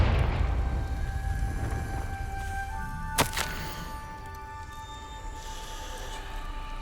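A Confringo spell explosion in the video game Hogwarts Legacy lands as a single sharp crack and boom midway through, over a low rumbling game ambience with sustained tonal hums.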